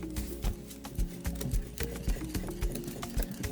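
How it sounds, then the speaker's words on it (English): A whisk beats steadily around a bowl, mixing parched flour into batter for Guyanese halwa. The strokes repeat in a regular rhythm of roughly two per second, close and continuous, with a constant low hum underneath. "Whisk everything up"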